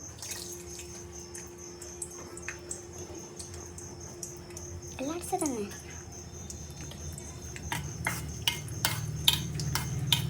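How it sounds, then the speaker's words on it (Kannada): Cashews deep frying in hot oil for a vegetable dum biryani, a steady close sizzle and bubbling with faint stirring taps that grows busier toward the end. "ಇದನ್ನು ಎಣ್ಣೆ ಒಳಗೆ ಹಾಕೊಂಡು ಡೀಪ್ ಫ್ರೈ ಮಾಡಬೇಕು"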